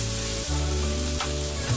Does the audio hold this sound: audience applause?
no